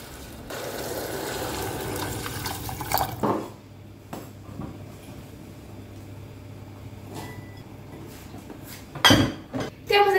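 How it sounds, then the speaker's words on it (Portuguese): Water poured over raw rice in a cooking pot: a splashing, running pour near the start, then quieter clinks of pot and utensils with a few knocks and scrapes. "E vou cobrir com água."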